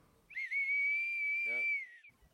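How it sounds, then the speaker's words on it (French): An old German First World War military whistle blown once in a single long, steady, shrill blast of about one and a half seconds, close and loud, with a brief fluttering waver near the end. "Et le sifflet, il fonctionne encore?"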